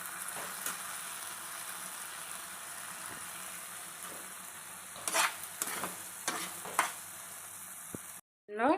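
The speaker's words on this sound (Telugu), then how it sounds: "అదే ప్యాన్లో ఆయిల్ పోసి మళ్ళీ టమాటాలన్నీ వేసి మెత్తగా వేసేసుకోవాలి." Tomatoes fry in oil in a pan with a steady, close sizzle, broken near the end by several sharp stirring scrapes and clatters, with no voices.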